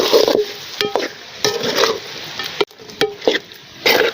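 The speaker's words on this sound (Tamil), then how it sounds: "இந்த மாதிரி நல்லா கைவிடாமல் கிண்டிகிட்டே இருங்க" Quail pepper fry being stirred in a pan with a spatula: repeated scraping strokes over a steady sizzle, close and fairly loud, with short pauses between strokes.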